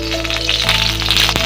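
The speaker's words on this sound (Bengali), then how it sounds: "এখন দিয়ে দিচ্ছি সরিষার তেল।" Mustard oil poured into a hot wok (kadai) on a stove hisses into a steady, fairly loud sizzle, with faint clicks and crackles throughout.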